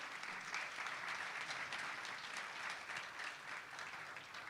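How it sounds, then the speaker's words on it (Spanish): Audience applause welcoming a minister at a Buenos Aires talk on redeveloping the Microcentro, a steady dense clapping that fills the whole stretch at moderate level, with no speech over it. "un fuerte aplauso."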